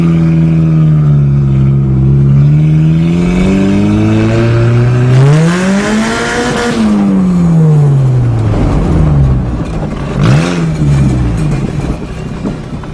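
A modified 1997 Mazda Protege engine revs hard while driving across a field, the loud engine pitch climbing and falling in broad sweeps, with a second rev burst toward the end.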